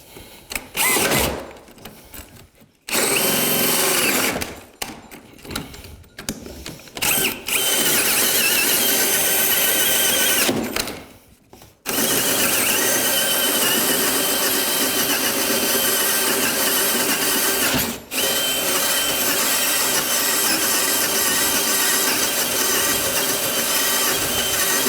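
Power drill with an auger bit boring through wood, with short start-stop bursts at first, then a long, loud sustained whine with grinding as the bit chews through.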